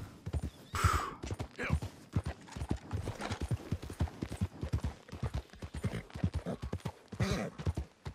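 Rhythmic clip-clop of horse hooves in Red Dead Redemption 2, steady and close, with brief snorting or whinny-like bursts from the horse, which is agitated by a nearby predator.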